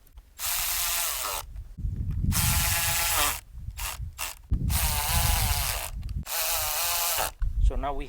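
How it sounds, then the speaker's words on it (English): A power screwdriver whirs in repeated bursts of a second or two with short gaps, tightening screws on the air filter housing of a 2014 Volkswagen Jetta, close and clear. "now we can tighten our screws back in so everything goes back as it was"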